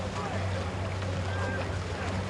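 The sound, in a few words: gust of wind blowing into commentary box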